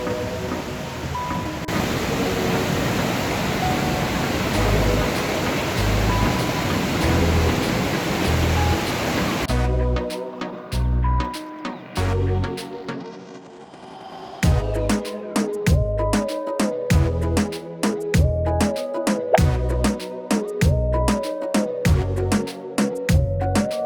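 Atancayo waterfall, about 20 metres high, in the Chucumayo river ravine near Matucana, Peru: a steady, loud broadband rush of falling water, joined partway through by sharp rhythmic pulses.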